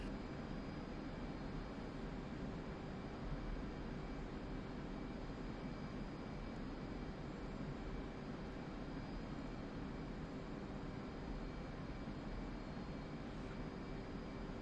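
An F/A-18 Hornet jet engine roars on afterburner in a flight simulation game, a steady, dense, unbroken rumble with a faint constant whine above it.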